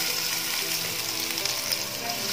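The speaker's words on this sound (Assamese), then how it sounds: "যেতিয়ালৈকে পিঁয়াজখিনি ভালকৈ বাদামী ৰং নহয় তেতিয়ালৈকে মই অকণমান ভাজি ল'ম।" Onions fry in a pan with a dense, constant sizzle, close and loud throughout, with no voices.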